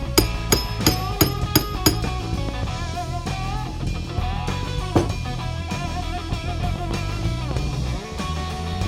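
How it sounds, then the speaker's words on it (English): A hammer taps a faceplate onto a cigar box tube amp, giving about five sharp, quick knocks in the first two seconds, followed by music that continues alone. "With a few taps of the hammer, I have the faceplate installed."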